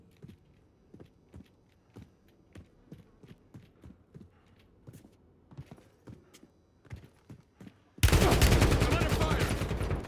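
Gunfire in the Warzone video game comes as a rapid string of sharp, moderately distant shots, then ends in a sudden, loud, close blast of fire.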